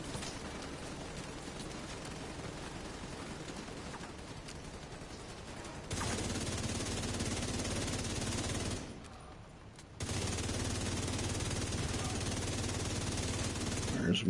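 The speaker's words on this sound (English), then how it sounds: "A machine gun. Oh, I got 2 machine gunners." Machine gun fire in the video game The Division 2, sustained dense bursts of automatic shooting that rattle on with a brief lull partway through, steady and fairly quiet.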